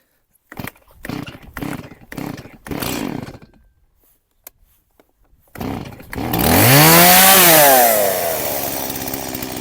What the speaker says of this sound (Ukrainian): Давненько я її не заводив, цю пилку. Зараз спробуємо.